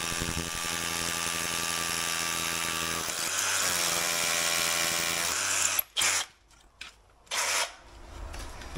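A cordless drill bores into solid stone, a steady whining grind for about six seconds, then a few short bursts of drilling separated by pauses, close and alone without talk.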